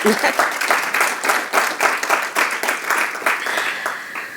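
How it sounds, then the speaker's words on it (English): Applause at a CAF press conference with African Football Logistics, in choppy bursts of clapping from a modest group, fairly close, rising and dipping in uneven waves. "But maybe it was delayed applause. So I'm expecting it now."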